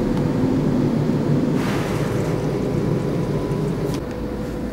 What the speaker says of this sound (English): Start blowing air.